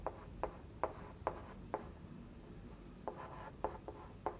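Chalk or marker strokes on a classroom board during a Hindi maths lesson, a series of quiet, crisp scratchy taps and short drags in an irregular rhythm, with a brief pause midway and no talking over them.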